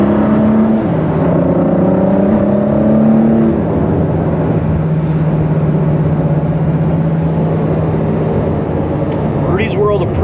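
A Ford GT supercar's engine pulls hard under acceleration, its loud, steady drone shifting pitch upward and then settling into a sustained cruising tone, with someone talking over the first few seconds.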